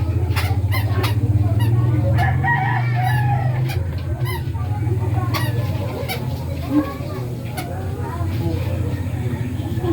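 Domestic fowl honk and cluck in a family yard, a duck among them, with repeated calls and sharp clicks while people talk and a low background hum continues throughout.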